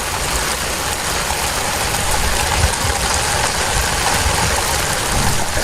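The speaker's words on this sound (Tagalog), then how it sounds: "Ang lakas ang ulan, oh." Heavy monsoon rain pours down outdoors in a dense, loud, unbroken hiss that stays steady throughout with no voices.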